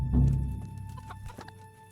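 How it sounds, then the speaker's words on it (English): A chicken clucks in the medieval video game Kingdom Come Deliverance, a few short close clucks over a low rumbling ambient game background with faint scuffs. "I just watched a chicken walk into the foundation of a house."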